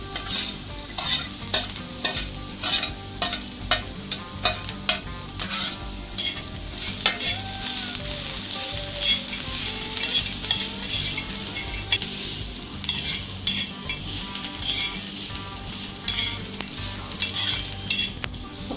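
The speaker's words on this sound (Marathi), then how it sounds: "तर दोन मिनिटासाठी मी याला तव्यावरती फ्राय करून घेतलेलं आहे" Carrots and bell pepper stir-fry on a hot tawa griddle, a constant near sizzle punctuated by frequent rhythmic metal spatula scrapes and clinks, with no speech.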